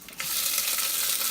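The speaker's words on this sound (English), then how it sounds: "So we're going to put these in the pan." Shelled shrimp dropped into a hot frying pan, setting off a sudden close sizzle that quickly rises and then holds as steady, bright frying hiss.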